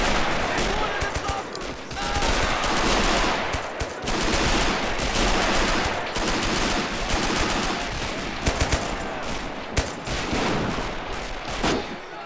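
Dense small-arms and machine-gun fire in the World War II strategy game Men of War Assault Squad 2, a loud, sustained crackle of overlapping bursts with heavier thumps, while someone talks over the battle.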